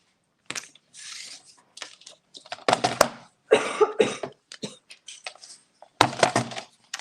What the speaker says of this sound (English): I can feel a cough, a tickle.